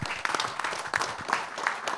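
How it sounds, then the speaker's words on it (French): Brief applause from the audience at a book presentation, scattered claps heard at close to moderate distance, with a little talk mixed in. "Des applaudissements, s'il vous plaît."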